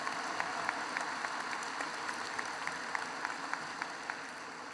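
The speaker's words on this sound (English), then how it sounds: "How about a nice round of applause for all of our honored guests and class officers?" A large crowd applauds steadily at a high school graduation ceremony, a broad continuous wash of clapping with a few louder individual claps standing out.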